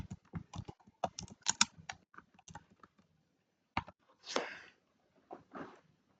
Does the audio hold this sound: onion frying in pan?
no